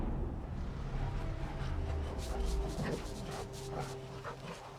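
A dog gives short, sharp barks mixed with thin, whining whimpers, fairly close, over a low rumbling background.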